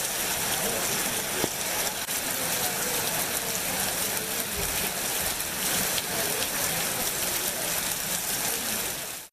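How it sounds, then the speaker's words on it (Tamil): Heavy rain pours steadily across the farmland around Thirumangalam in Madurai district, a dense, constant hiss with no break, loud and close throughout. "மதுரை மாவட்டம் திருமங்கலம் மற்றும் சுற்றுவட்டார பகுதிகளில் 1/2 மணி நேரமாக கனமழை வெளுத்து வாங்கியது"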